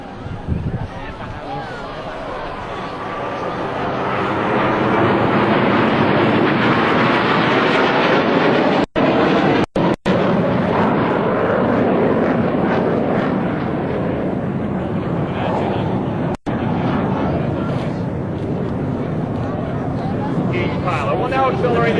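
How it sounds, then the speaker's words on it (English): A US Navy Blue Angels jet accelerating past at a 2003 Rhode Island Air National Guard open house air show: a broad, loud roar swells within a few seconds and holds, with distant crowd noise underneath. "Accelerate his aircraft to 500 miles per hour and execute a 1/2 cube and 8 reversal turn back towards the flight line"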